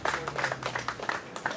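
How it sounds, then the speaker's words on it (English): An audience at a Pakistani American community gathering in the Bronx breaks into brief applause, a quick burst of many hands clapping in uneven pulses, fairly close and moderately loud. "Let's applaud them for their tremendous effort."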